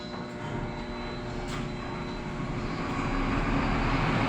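A generator set engine runs steadily with a low rumbling drone and mechanical hum, holding a constant, fairly loud level throughout and building slightly toward the end, with no talking.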